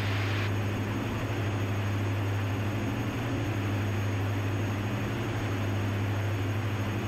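Steady engine and propeller drone heard inside the cabin of a 2006 Diamond DA-42NG twin-engine airplane during a steep turn, a constant loud hum with a strong low tone and broad airy hiss throughout.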